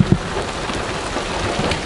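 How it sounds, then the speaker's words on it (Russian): Steady rain falls outside a fishing platform just after a thunderstorm, a continuous broadband hiss of drops with one brief low knock near the start and no voices. "Как бы дождь идет"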